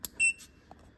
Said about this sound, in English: that beep was just the indicator that our 360 has power